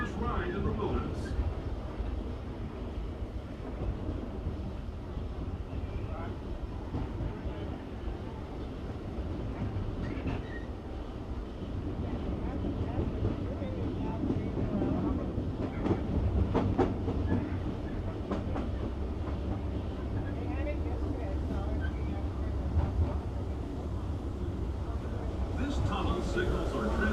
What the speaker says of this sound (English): mysterious spirits have grabbed hold of those mining trains and turned them into the wildest ride in the wilderness